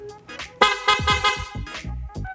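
A loud aftermarket horn on a Honda Click 125 v3 scooter honks in several short blasts, some brief beeps among longer blares, close and harsh, with a faint voice barely audible at the start.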